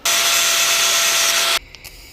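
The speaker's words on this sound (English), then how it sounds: "Now I want to grind this off and weld that to that." A power grinder works on metal for a 1/14 scale lowboy trailer model, giving a loud, steady, high-pitched whine for about a second and a half before cutting off abruptly, then a couple of faint clicks.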